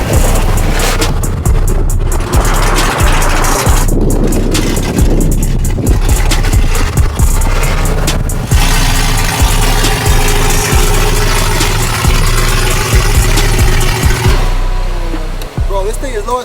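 A lowered car driving with its engine running steadily, a loud continuous low rumble throughout with occasional knocks and scrapes, and people talking over it.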